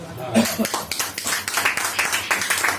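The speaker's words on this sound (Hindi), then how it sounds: "ताली बजाओ।" Rhythmic hand clapping from a church congregation, close and fairly loud, with a voice heard briefly at the start.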